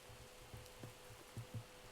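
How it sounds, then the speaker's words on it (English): Rain falling in the Minecraft modpack FTB Oceanblock, a steady soft hiss with a few faint low patters, quiet and continuous with no talking. "I am going to go to sleep because I do not like the rain"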